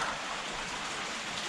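Raindrops fall steadily into a garden pond, a dense, even hiss of patter that stays close and constant throughout, with no voices.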